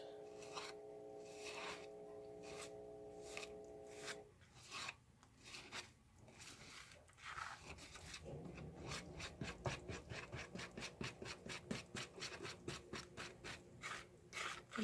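A honey mixture is whisked in a bowl: quiet scraping strokes, slow and uneven at first, then a fast steady rhythmic rasping, close and faint.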